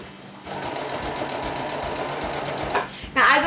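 A sewing machine stitches a steering wheel cover in a steady, continuous mechanical whir that stops abruptly near the end, followed by a brief louder rustle.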